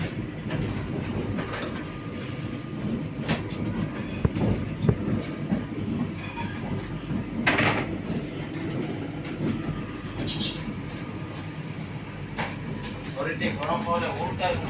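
A Gitanjali Superfast Express rumbles past a halted Vande Bharat train, a continuous low rolling roar with faint wheel clatter and scattered clicks, heard from inside the stopped coach at moderate level for about fifteen seconds.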